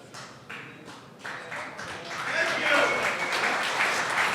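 A live wrestling audience at a WrestleMania panel breaks into applause that starts with scattered claps and swells into loud, dense clapping over a few seconds.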